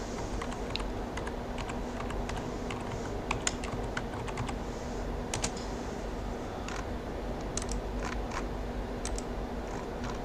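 Steady typing on a computer keyboard while entering SketchUp shortcuts, the keys clicking in quick irregular bursts with a few sharper taps, close and clear over a constant low hum.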